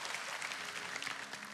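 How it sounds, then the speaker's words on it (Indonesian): A church congregation claps in steady, moderately quiet applause that fills the whole short moment. "Kasih tepuk tangan untuk mereka"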